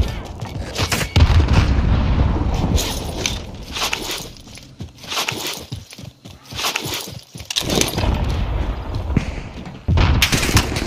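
Grenade blast and surrounding combat in Call of Duty: Warzone battle royale, with a run of loud booming hits and rapid crackling gunfire-like bursts filling the whole stretch, no speech over it.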